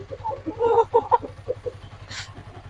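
Newly delivered Rhode Island Red chickens, a mix of young birds and breeder-age hens, give a run of close, busy clucks and murmurs, ending in a brief higher squawk.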